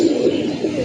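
Young pigeons in a loft give a short, close, fairly loud coo that holds a soft throaty tone for under a second.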